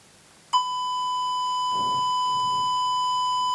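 A sudden pure 1 kHz electronic test tone starts and holds as one steady, loud tone during a loudspeaker impedance measurement, with faint background sounds briefly passing beneath it.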